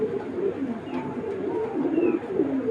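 Foreign-breed pigeons coo in a repeated, rolling low murmur that runs throughout, fairly close, with a couple of faint higher chirps mixed in and no talking.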